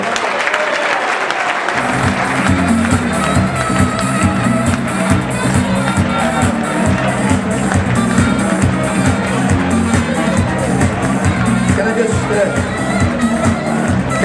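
A crowd at a football club's end-of-season player introductions breaks into sustained applause for an absent player, steady and full for the whole stretch, with a voice and low murmur running underneath.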